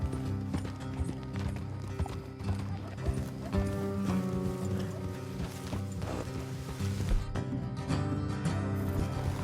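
Horse hooves clip-clop steadily at a walking rhythm over a constant backdrop of ambient game music and rumble, with a horse snorting at times, in Red Dead Redemption 2.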